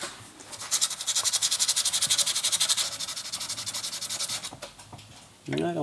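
Abrasive paper rubs back and forth on a metal dogtag to remove a line, a fast rhythmic scratching of steady even strokes lasting several seconds, close up, ending with a brief louder rustle.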